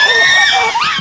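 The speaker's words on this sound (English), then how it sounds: "There's a lot of screaming, there's lots of displays, it's very loud" Chimpanzees scream after hunting and eating a monkey: a brief, loud burst of shrill, overlapping cries rising and falling in pitch, heard close.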